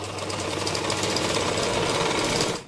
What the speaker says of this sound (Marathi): आता आपण मुंड्यातला जो टक्स आहे तो स्टिच करणार आहे